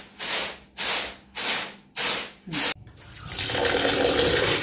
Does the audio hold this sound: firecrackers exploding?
no